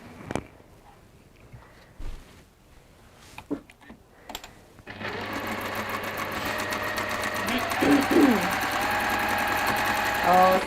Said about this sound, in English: And then we're going to stitch again through there.